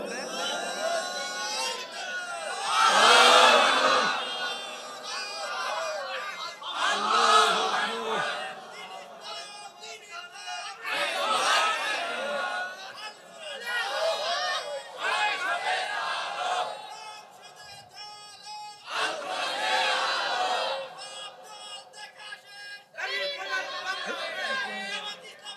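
A crowd chants slogans in bursts at an Islamic sermon gathering in Bogura, loud waves of many voices rising and falling with brief pauses between them.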